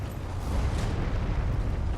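Explosions land nearby in Dark Souls 3, a dense, low rumbling roar of blasts that continues for two seconds, loud and close with no talk.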